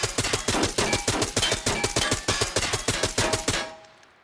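A Mini-14 rifle fires in Arena Breakout Infinite, about fifteen sharp shots in a fast, even rhythm. The shots are loud and close, then the sound drops away to near silence at the end.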